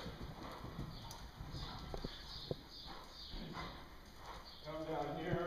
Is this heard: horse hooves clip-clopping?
yes